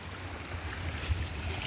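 Sea waves wash in around a car stuck on the shore, a steady broadband surf rush with low rumble, swelling slightly midway before cutting off abruptly.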